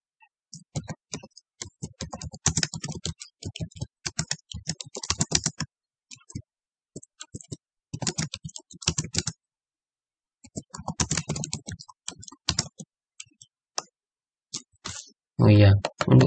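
Typing on a computer keyboard during accounting software setup, with repeated Tab presses: bursts of rapid close clicks separated by short pauses, a louder clatter at the end, and a voice speaking between bursts.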